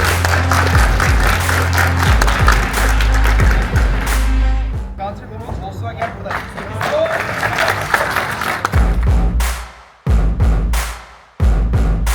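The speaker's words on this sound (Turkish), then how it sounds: "Alkışlar." Applause from a crowd at an award ceremony at Istanbul Park racetrack, a loud sustained wash of clapping mixed with voices and talk, dipping briefly near the end before resuming.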